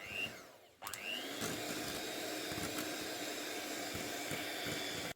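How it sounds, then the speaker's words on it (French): An electric mixer starts with a rising whine and then runs at a steady, continuous buzz while blending chocolate marble cake batter in a kitchen. "Et on va mixer une fois de plus."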